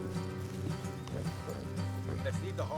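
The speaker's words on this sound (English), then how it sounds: "Let's leave the horses here and go the rest on foot." Horses clip-clop along a trail in Red Dead Redemption 2, a steady hoof rhythm sitting under game music and ambient outdoor sound throughout.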